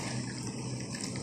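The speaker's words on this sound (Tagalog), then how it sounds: "Lagyan natin siya ng mainit na tubig." Hot water is poured over chicken feet in a kitchen, making a steady, close gushing splash with no talk over it.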